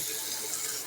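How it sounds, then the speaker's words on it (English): Water pours into a bottle in a brief, steady splashing rush that continues without pause through the short moment. "I'm just gonna put some water in."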